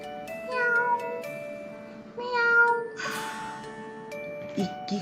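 A big cat meows in a children's story, giving several drawn-out, wavering meows one after another, close and fairly loud, with a soft ticking sound underneath.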